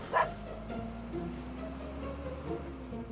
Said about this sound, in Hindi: देख कुत्ता पीछे पड़ा है